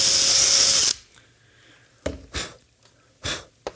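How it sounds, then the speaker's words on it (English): Power drill boring a 1/4-inch hole through wood, a loud close whir that cuts off abruptly, followed by a few short scraping and rustling bursts. "So I drilled a 1/4-inch hole."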